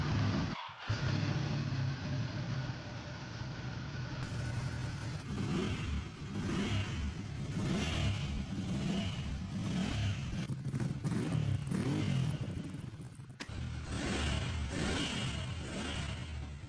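A Ducati motorcycle engine fires up and revs, a steady close rumble rising and falling through repeated throttle blips, with no talking.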